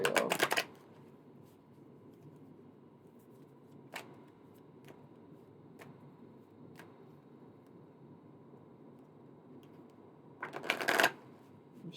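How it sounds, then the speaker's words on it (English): Deck of cards being shuffled, with a loud riffling burst at the start and another near the end, separated by a quiet stretch of scattered light card taps. "I'm shuffling these like I don't still have cards on the table."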